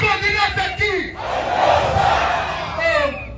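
A crowd at a political rally in Gabon roars a shouted reply after someone speaks, the collective yell rising loud and then fading.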